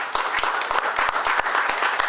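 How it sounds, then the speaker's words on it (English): Conference audience applauding the chief librarian in Central Brooklyn: a short burst of loud, close, sharp claps with individual hand slaps standing out over a dense patter. "I think we should give him a round of applause."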